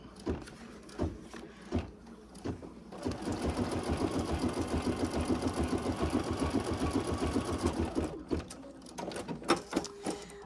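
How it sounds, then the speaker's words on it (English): Embroidery machine sewing a bean stitch to attach elastic in the hoop, a rhythmic mechanical chatter running for several seconds between quieter handling clicks. "Do a little bean stitch across there."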